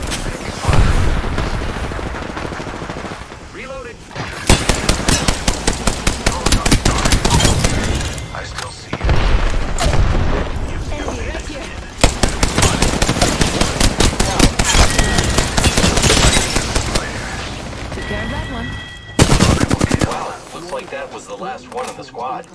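Rapid automatic gunfire bursts in the battle royale game Apex Legends, loud dense volleys broken by short pauses, with booms and game voice callouts mixed in.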